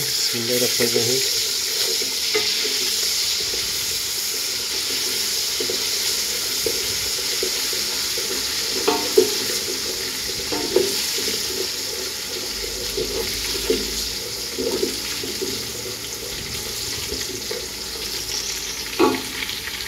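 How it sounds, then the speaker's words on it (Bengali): Ginger and onions fry steadily in a pan for chicken biryani, giving a continuous close sizzle with occasional soft clinks and stirring scrapes throughout. "এখন আমি আদরকগুলো দিচ্ছি, আদরকগুলো লাল করবো"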